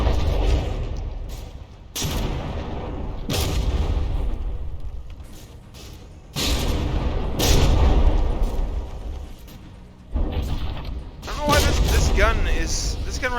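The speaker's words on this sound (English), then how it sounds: "This gun right here is just shooting way high, going over the target constantly." Battleship guns firing in the naval combat game From the Depths: heavy booming blasts in repeated bursts with rumbling gaps between, loud and close, mixed with dense battle noise.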